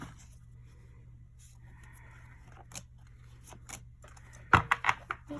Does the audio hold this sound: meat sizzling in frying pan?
no